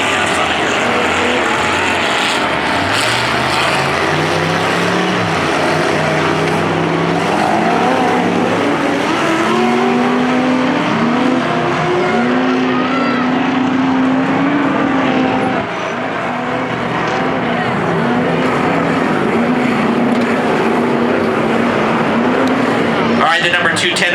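Race cars climbing a hill during a heat race, their engines droning and revving with pitch rising and falling as they pull upward, steady and fairly loud throughout, with a commentator's voice likely over them.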